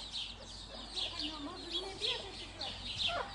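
A Podkarpacka hen, a broody mother, clucks softly and repeatedly beside her chicks, whose high peeping chirps recur throughout at close range against low background noise.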